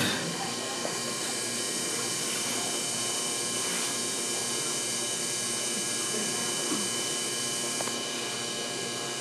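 A milking machine runs in a classroom with a dairy cow, giving a steady mechanical hum with faint rhythmic pulsing and clicks, continuous throughout.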